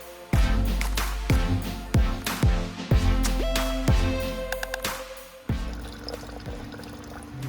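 Concentrated nitric acid poured quickly into a container in a gold-refining setup, a close, loud splashing pour broken by a series of sharp clinks or knocks, with no talk.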